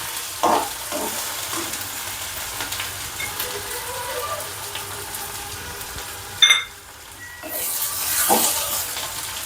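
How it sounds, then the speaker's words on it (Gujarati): Garlic sautés in a pan with mixed spices for a tuvar and potato curry, a constant soft sizzle with a few sharp scraping stirs and a brief louder clatter near the end. "હવે આપણે લસણ નાખીશું અને બધા સાતળી લઈશું આ રીતે."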